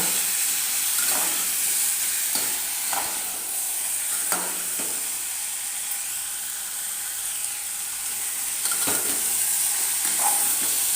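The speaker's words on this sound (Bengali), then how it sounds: "এবারে আমি এটাকে একটু তেলের সাথে একটু ভেজে নেব।" Pumpkin, potato and onion frying in oil in a pan, giving a steady close sizzle and hiss with occasional light scrapes and stirs, with no voices.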